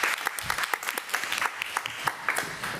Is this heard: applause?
yes